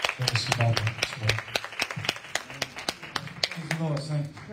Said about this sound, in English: Come on, clap your hands for him.